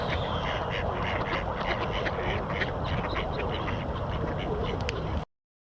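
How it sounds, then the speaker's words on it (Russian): Mallard drake quacking among other ducks outdoors in winter, repeated raspy quacks over a dense, steady background of flock noise, with someone talking over them until the sound cuts off abruptly. "Чего стоит этот селезень-подранок с обледеневшим крылом?"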